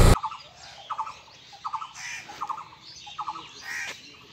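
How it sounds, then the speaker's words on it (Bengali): On the bank of the dry Mahananda River, a bird calls over and over in short, rapid squawking bursts, repeating at a steady interval, moderately near with faint outdoor background. "কন্টিনিউয়াসলি কি একটা পাখি ডাকতেছে"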